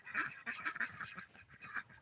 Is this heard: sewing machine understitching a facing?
no